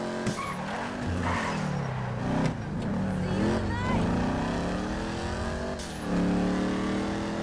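A modified car in GTA 5 accelerates hard, its engine pitch sweeping up through several gear shifts with tire squeal, loud and continuous while someone talks over it.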